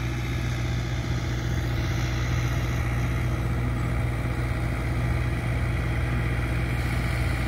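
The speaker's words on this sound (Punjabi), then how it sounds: "ਛੇ ਸੌ ਚਾਲੀ ਟਰੈਕਟਰ ਆ," A model 640 tractor engine running in farm fields, a steady, loud low idling throb with constant engine drone throughout, close by and without talk.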